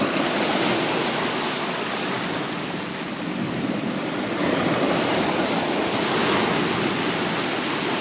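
Sea waves and tide washing up on a Bristol Channel beach at Lilstock, a continuous broad rushing roar heard alone and steady throughout.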